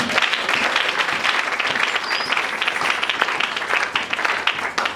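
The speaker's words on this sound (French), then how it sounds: "Acclamons pour le Seigneur." Church congregation applauding at a Sunday service, dense, steady clapping filling the room for the whole stretch, loud and continuous with a faint voice underneath.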